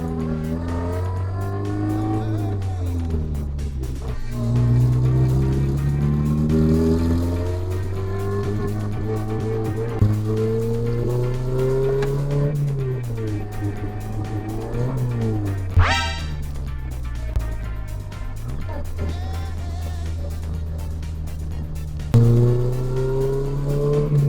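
Car with a K24 engine accelerating on its first drive, rising and falling revs in steady harmonic sweeps through several gear changes, close and loud throughout with a brief squeal near the middle and no talking.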